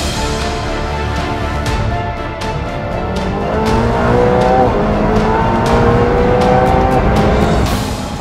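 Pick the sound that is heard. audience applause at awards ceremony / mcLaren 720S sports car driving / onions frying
mcLaren 720S sports car driving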